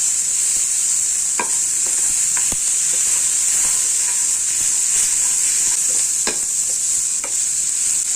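Onions sautéing in a pan for fish gravy give a constant loud hiss of frying, broken by occasional sharp spatula scrapes and taps as they are stirred, with no speech.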